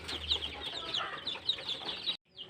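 Joper chickens cluck and chirp in a coop, a steady flurry of short high calls close by, ending in a sudden cutoff before a brief resumption.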